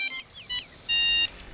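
A phone rings during a dubbed Hindi film scene, sounding as bright, repeated electronic ring bursts, roughly four short tones with brief gaps and a longer burst near the end, fairly clear and without talk.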